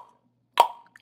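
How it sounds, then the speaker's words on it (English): A single sharp tongue click is followed by a short ringing echo, as in a simulated hallway with one wall on each side. It is heard alone against silence. "So we can hear the hallway if I click my tongue."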